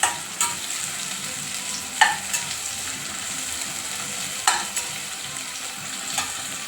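Onions frying in a pan for mushroom biryani, a steady close sizzle broken by a few sharp stirring scrapes and clinks of a spoon, no voices.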